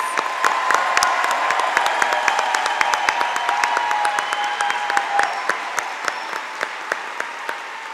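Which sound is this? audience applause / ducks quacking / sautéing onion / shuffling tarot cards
audience applause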